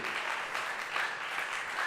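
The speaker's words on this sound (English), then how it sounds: "So a big applause to him as well." A concert audience applauds at a drum masterclass event, a steady wash of many hands clapping at moderate level without a break, with no voices standing out.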